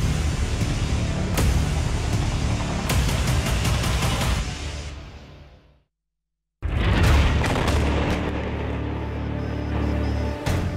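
Bomb explosion in Lebanon, a loud, sustained broadband roar and rumble with sharp cracks that fades, breaks into brief silence, then bursts back just as loud with no voices.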